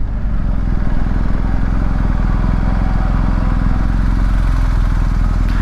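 A 2021 BMW R 1250 GS motorcycle with a flashed ECU runs its engine loudly and steadily throughout, giving a dense, continuous rumble with a fast, even pulse and no voices.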